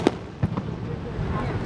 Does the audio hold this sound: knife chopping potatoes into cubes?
no